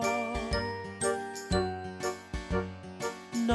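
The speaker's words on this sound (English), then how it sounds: "his tinkling bell means he's the happiest little fellow in all Toyland" A small tinkling bell on a toy character rings in a bright, repeated jingle, several quick rhythmic shakes close up over a musical background.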